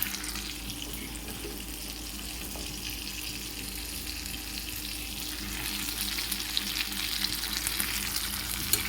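Onions fry in a pan with a steady, close sizzle that grows slightly louder and crackles more toward the end.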